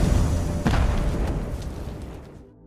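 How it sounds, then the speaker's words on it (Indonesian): A bomb detonates in a film scene, a single loud, dense boom that fills the clip and then rumbles down and fades away at the end. "Davis yang menyadari ada bom, ia segera menyelamatkan Shaw sebelum bom itu meledak."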